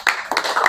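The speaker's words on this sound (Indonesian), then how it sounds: "mari iringi dengan tepuk tangan yang meriah" A short burst of clapping, a few hands striking in quick succession, close and fairly loud.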